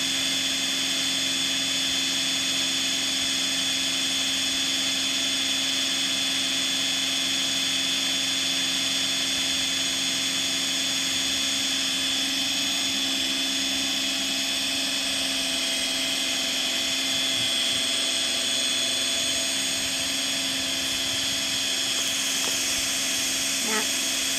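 A small pump draws water out of a jug, giving a steady, unbroken droning whine with a constant hum that holds at even loudness from start to finish.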